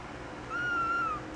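A Persian kitten lets out a single thin, clear meow, rising and then holding steady at close range, over faint room noise.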